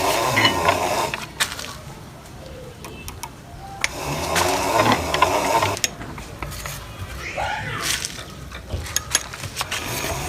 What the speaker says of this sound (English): So why are you grinding it 2 times?